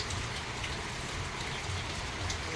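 Steady rain falls on a goat shelter, a dense, even hiss and patter of drops on the roof with no break, fairly close and uniform throughout.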